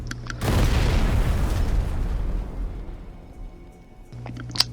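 A grenade sets off explosive barrels by some stairs in Sniper Elite Resistance, giving one loud, close, rumbling blast that fades over several seconds into a tail of debris.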